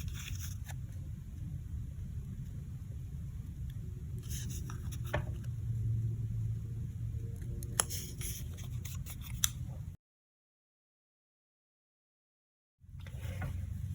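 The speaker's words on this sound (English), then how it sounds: "I'm going to cut mine off" Scissors snip steadily through die-cut cardstock while a card is trimmed, a soft close crisp cutting over quiet room hum, followed by a brief silence and then more faint handling.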